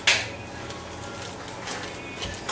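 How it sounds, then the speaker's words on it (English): Cutting up a freshly cooked steak fajita quesadilla with a soft tortilla shell: a sharp clattering scrape at the start, then a low, steady scraping crunch close by, with no one talking. "Let's go ahead and cut this up."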